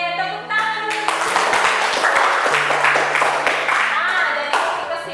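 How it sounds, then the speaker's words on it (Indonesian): A classroom of students claps together for several seconds, a dense burst of applause that starts abruptly and holds steady, with a faint sustained tone underneath. "Oke, tepuk tangan dulu."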